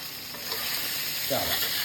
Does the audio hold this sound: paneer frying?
yes